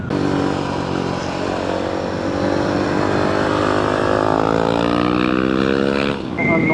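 A 450 cc motorcycle being ridden, its engine note climbing steadily in pitch through a long pull before a brief dip as it shifts, loud and continuous with wind rushing underneath.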